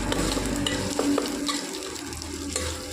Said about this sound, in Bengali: এখন পেঁয়াজ কষা চলছে